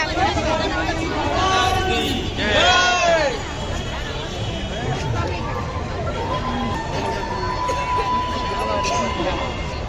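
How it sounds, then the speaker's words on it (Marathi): Busy crowd streaming through the entrance of the Kalyan festival, a steady babble of many voices and footsteps close around, with nearby chatter rising and falling. "खूप गर्दी आहे यावेळी."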